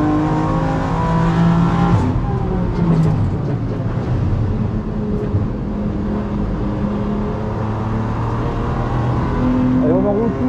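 A BMW M4 GT4 race car accelerates almost flat out on a slippery track, its engine a continuous loud drone from the cockpit, with a driver talking over it throughout.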